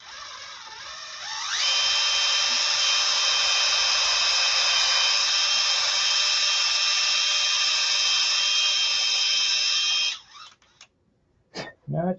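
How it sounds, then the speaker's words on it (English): A power drill whines at a steady high pitch for several seconds, close and loud, then stops, followed by a couple of short bursts. "Okay, we'll drill a little deeper."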